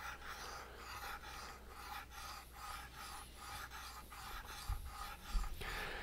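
A gouge's inside bevel is sharpened by hand with a slow, rhythmic series of soft rasping strokes, close and fairly quiet.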